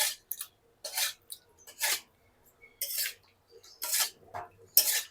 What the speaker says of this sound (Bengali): এই মাছগুলোকে আমি এখন হালকা নেড়ে নিব, যাতে সব কিছুই লাগে গায়ে।